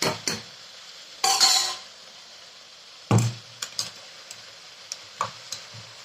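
Intermittent scraping and clanking of a spatula stirring spiced dal in a wok with a lid just removed, brief loud bursts separated by quieter gaps, close by with no talking.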